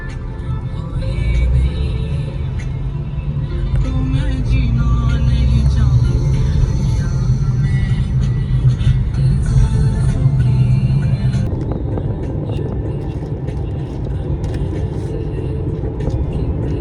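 A car cruising down a highway, with a loud, steady low road rumble and engine drone throughout, plus a slight shift in tone partway through and wind noise on top.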